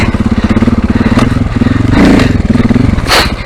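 An off-road motorbike riding over logs, its engine chugging loud and close with a steady throbbing idle, briefly blipped with a short throttle rise and a few knocks and scrapes.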